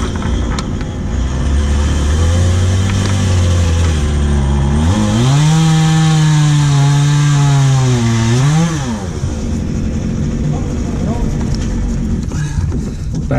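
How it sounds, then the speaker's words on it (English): Loud construction machinery from a crew building a fence about ten feet away, a continuous engine drone that rises and wavers in pitch like a revving chainsaw or power tool, running steadily throughout. "Background noise provided by a construction crew working on a fence about 10 feet away"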